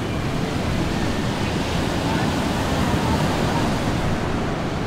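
Steady roar of surf at Playa El Hornillo beach near Malaga, continuous and fairly loud with wind noise mixed in, no distinct breaks between waves.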